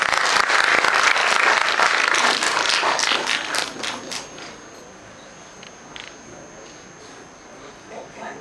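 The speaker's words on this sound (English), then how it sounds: "A big round of applause for the" An audience at a legal research event welcomes a guest speaker, a Supreme Court senior advocate, with loud, dense clapping that gradually thins out and fades to a few scattered claps.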